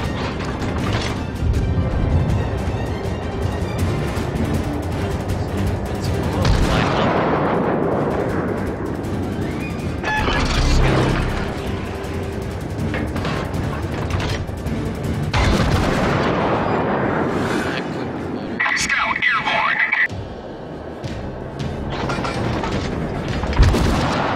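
Heavy gunfire and booming cannon shots in a tank battle video game, continuous loud rumbling blasts with a sharp crash near the end.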